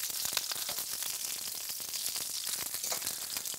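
Drained eggplant slices frying in a pan give a steady, bright sizzle with fine crackles throughout, close and continuous, with no talking.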